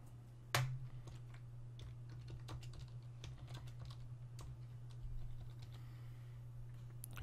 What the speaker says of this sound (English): And you can type whatever you want here.